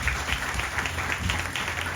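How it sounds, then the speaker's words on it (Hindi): Audience applause at a church ordination service in honour of two pastors, a steady dense wash of clapping sustained throughout without pause. "तो हम तालियां बजाए दोनों पास्टर साहब के लिए।"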